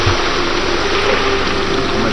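Waterfall splashing in the video game American McGee's Alice, a loud, dense, steady rush of falling water filling a brief moment.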